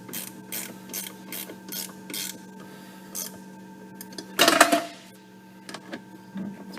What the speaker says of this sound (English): Okay, we got our ratchet wrench. We're going to use it to snug these up.